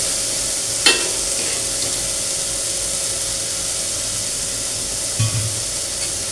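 Curry leaves and other ingredients are stirred in a pan over a steady frying hiss, with two sharp clinks of the spoon against the pan, one early and one near the end.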